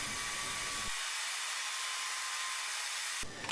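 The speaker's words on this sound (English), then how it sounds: "I decided to make a quick design with 2 simple passes of the saw blade" A saw blade runs on wooden frame pieces for a military shadow box, cutting shallow decorative grooves less than a quarter inch deep. It makes a steady, loud, hissing whine throughout, changing briefly near the end.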